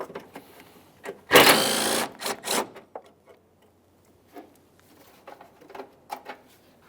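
A wrench works the 13mm mounting nuts off the windshield washer reservoir on a Chevrolet Trailblazer, giving a brief burst of rapid ratcheting clicks followed by scattered light taps and clinks of metal hardware.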